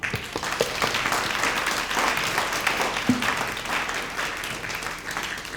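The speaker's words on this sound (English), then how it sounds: "please join us again to giving them a big round of applause again" An audience at a corporate-career seminar breaks into sustained applause: many hands clapping in a dense, even wash for several seconds, steady from start to finish, with faint murmuring underneath.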